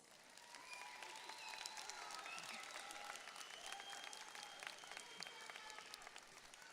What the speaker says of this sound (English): Seniors, please give them a round of applause.